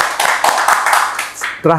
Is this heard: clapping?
yes